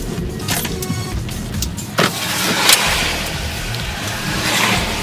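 A car drives along and merges into traffic, with steady engine and road noise up close, a brief mechanical whine and a gradual swell toward the end.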